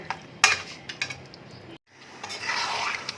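A spoon scrapes and clinks against a pot while mutton curry with sour yogurt is stirred, in short irregular knocks and scrapes, close and moderately loud, with a brief silent gap before softer stirring and a low sizzle resume.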